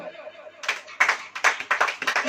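An audience claps at a Hindi sermon in a church setting, the uneven bursts rising after a brief spoken phrase and continuing in ragged waves.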